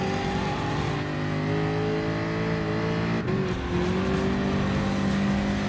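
Race car engines roar steadily at high revs in Gran Turismo Sport as a car overtakes the Mercedes SLS GT3 on the Mount Panorama circuit, with a brief shift dip midway and engine pitch climbing again.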